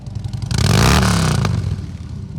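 A Harley-Davidson Road King motorcycle engine at a bike show, throttle twisted for a single loud, close rev that swells and then eases back, with rumbling pipes and a little clatter.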